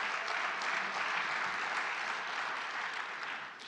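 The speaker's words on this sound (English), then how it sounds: "The clapping is good" Applause from an audience in a university lecture hall, a dense, even crackle of many hands clapping at moderate distance, holding steady and then tapering slightly at the end.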